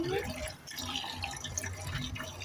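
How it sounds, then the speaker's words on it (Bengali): Broiler chicken meat is rinsed under running water in a kitchen sink, giving a close, continuous splashing and trickling with small drips. "ব্রয়লারের মাংস, যার জন্য একটু ধুয়ে নিচ্ছি।"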